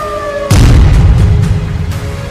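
A loud boom of an explosion during an Iranian missile attack on Tel Aviv cuts in sharply after a steady siren tone, then rumbles and decays while the siren wail returns faintly near the end.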